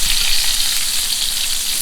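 Cheese-stuffed meatballs sear in a hot pan, giving a steady, loud, close sizzle and crackle that fills the short stretch without any voices.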